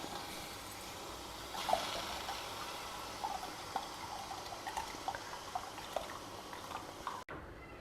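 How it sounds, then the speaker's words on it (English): Soaked millet and its soaking water go into hot water in a pot, a faint, soft pouring and trickling with scattered small drips and plops, quiet and close, ending in a sudden cutoff. "we will add in this millet along with the water in which it was soaked."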